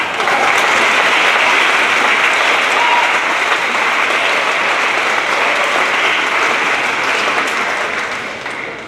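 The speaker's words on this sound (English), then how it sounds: "Round of applause, please." Sustained applause from a large crowd, steady and dense for the whole stretch, tapering slightly at the very end. No talking over it.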